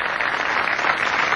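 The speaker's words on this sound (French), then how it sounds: "On peut applaudir" Applause for Enrico Macias from an audience in Morocco, a dense, steady burst of clapping that is close and fills the whole short stretch, without talk.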